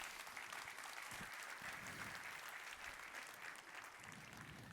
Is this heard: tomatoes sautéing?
no